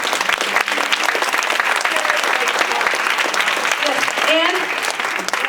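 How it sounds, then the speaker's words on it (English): An audience at a community conversation event applauds with sustained, dense clapping at full strength, while faint voices and a few cheers rise within the crowd noise. "A big round of applause."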